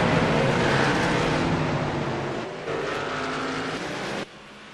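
Busch Series race cars at South Boston roar together as the green flag drops, a loud, dense wall of engine noise that holds steady and then drops off abruptly near the end.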